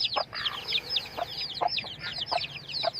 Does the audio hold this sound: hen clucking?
yes